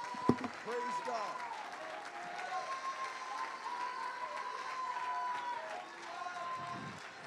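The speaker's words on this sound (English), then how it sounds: "Would you clap your hands to the Lord one more time?" A church congregation claps hands in praise during a worship service, a steady sustained patter of applause under a sung or spoken tone, moderately loud and continuous throughout.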